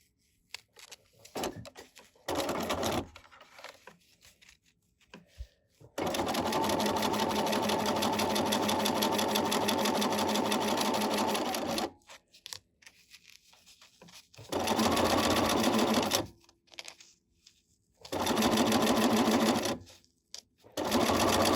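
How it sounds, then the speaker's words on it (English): A sewing machine stitches fabric from the back in several bursts: a short run, a long steady whir of about six seconds, then two more runs, with quiet handling clicks and rustling in between. "So I'm going to turn it over and sew from the back."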